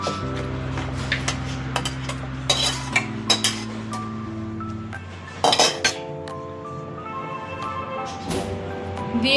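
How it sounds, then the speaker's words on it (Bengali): Braised mutton poured little by little from a pan into a pressure cooker, with repeated metallic clinks and scrapes of a spoon against the pots under a steady low hum. "এবার আমি এটাকে নামিয়ে প্রেসার কুকারে অল্প অল্প করে ঢেলে দেব।"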